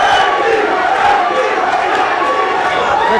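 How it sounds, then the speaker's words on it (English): A packed arena crowd at a boxing bout near Freeport, New York, chants a fighter's nickname, "Lefty," in a dense, continuous roar that fills the whole stretch with no single voice standing out. "The crowd chanting lefty, lefty."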